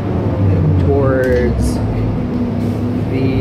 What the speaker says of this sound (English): We're taking the 131 bus